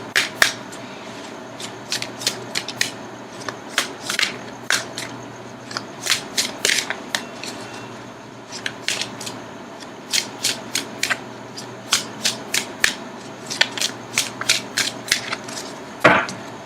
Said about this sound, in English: Okay, I'm going to cut the cards.